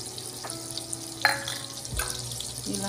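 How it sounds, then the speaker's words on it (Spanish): Garlic dropped into melted butter in a pan for white rice sizzles in a steady close hiss, with a couple of soft utensil clinks and a brief clatter partway through. "Ya derritiéndose así nuestra mantequilla, agregamos nuestro ajo"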